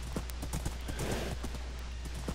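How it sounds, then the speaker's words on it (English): Horse hooves clip-clopping in steady rapid rhythm as a horse gallops in the Minecraft video game, close and continuous, with faint game ambience and no talk. "I'm on a horse and I can ride really fast"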